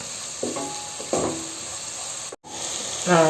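Sliced onions for mushroom biryani sizzle and fry in a pan, a steady hiss with a few bursts of stirring scrapes and a brief break partway through.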